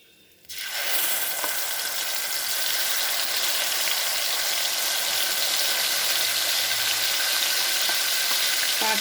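Tomato paste hits a hot frying pan and bursts into a loud, continuous sizzle that holds steady, close and alone.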